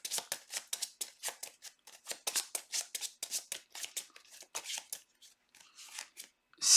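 Playing cards riffle-shuffled back into a deck during a card game, a rapid run of crisp papery flicks in quick bursts, close and clear with no talking.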